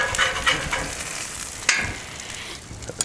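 Bacon sizzles on a Blackstone griddle alongside smashburgers, a continuous crackling fry broken by a few scraping clicks of a spatula.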